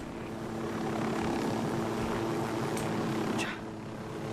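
A rocket-armed helicopter in the video game Ghost Recon Wildlands gives a steady, fairly loud rotor and engine drone throughout. A couple of faint sharp transients come near the end, and no one speaks.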